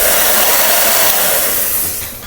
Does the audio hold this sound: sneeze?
no